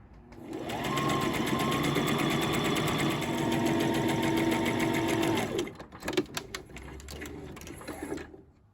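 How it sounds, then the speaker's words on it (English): A sewing machine runs one steady, loud stitching pass along a 5/8-inch armband seam for a jogger set, stopping after about five seconds, followed by softer handling clatter. "you're just going to stitch this seam here straight down and a 5/8 of an inch seam allowance on both of your armbands"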